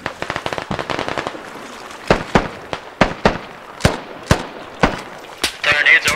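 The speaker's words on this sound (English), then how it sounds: "Alright, HE grenades are going out" High-explosive grenades go off in the military shooter game Squad: a rapid cluster of sharp cracking bangs, then a slower run of loud, evenly spaced blasts, with a denser burst at the end.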